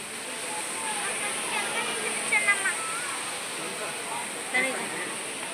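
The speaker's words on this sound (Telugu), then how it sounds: "వాటర్ ఫాల్స్ చూడు." A waterfall fills the air with a steady, broad rushing hiss at moderate distance. Faint voices of a family nearby come and go briefly over the water noise.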